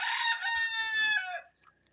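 A rooster crows loudly and nearby, a single drawn-out call that fades off at the end.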